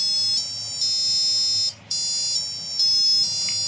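A Big Ben chime ringtone plays from a retro Casio digital watch fitted with an Ollie smartwatch module, a sequence of thin, high electronic beeping tones in close, clear bursts with a short gap midway.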